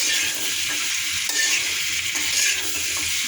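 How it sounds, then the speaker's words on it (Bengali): Eggs frying in a pan with steady crackling sizzle and occasional stirring, continuous and close, no voices. "এটাকে আমরা সুন্দর করে কষবো। ফ্রাই করে ফেলবো।"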